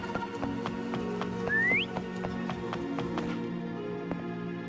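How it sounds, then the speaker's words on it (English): A single rising whistle from the player character calls the horse Foam in the video game Wuthering Waves, sounding briefly and clearly over a steady bed of rhythmic game music and ambience. "Try whistling."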